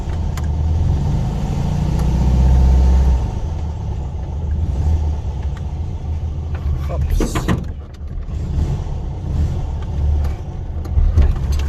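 A Fiat 126p idles with a low, steady engine rumble close by, then pulls away, the motor note shifting and a brief mechanical clatter cutting in midway; a voice speaks over it.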